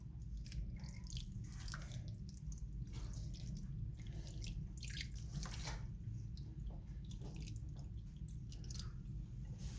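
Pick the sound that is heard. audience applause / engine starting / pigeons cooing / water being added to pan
water being added to pan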